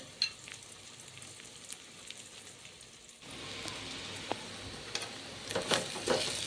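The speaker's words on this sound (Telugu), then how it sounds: "ఎగ్స్ ఒకవైపు ఉడికాయి కదా, వేసిన తర్వాత మరోవైపు తిప్పుకోండి" Eggs frying in a pan for a simple egg fry, with a soft steady sizzle that turns louder and denser as they are flipped midway, popping and crackling up close.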